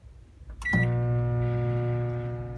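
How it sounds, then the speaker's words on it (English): A microwave oven switches on after a soft click and runs with a steady, loud electrical hum while heating melted soap base, continuing without interruption. "Our next step is to microwave our molten pour."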